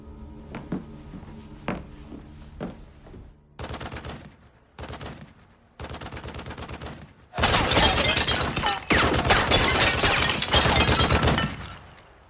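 Gunfire from a film: after a few sharp, faint isolated reports come several short, louder bursts, then a long, dense volley of rapid shots, all fairly close and with no voices over them.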